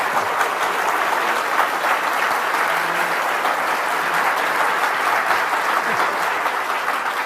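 Sustained, dense applause from a large forum audience for Professor Lowenstein, a continuous wash of many hands clapping at an even loudness throughout, with no voices over it.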